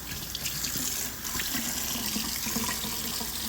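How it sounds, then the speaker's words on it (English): Water runs steadily from a kitchen faucet into a sink being readied to wash greens, a close, continuous splashing hiss with no talk. "get my sink all cleaned up here so I can wash them real good"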